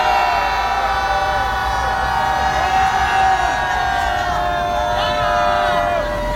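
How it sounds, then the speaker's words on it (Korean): A crowd at a Korean press-conference rally lets out one sustained, loud collective shout lasting the whole clip, many voices blending into a continuous roar without pause. "마지막으로 한 10초간 함성만 한번 지르고 끝내도록 하겠습니다"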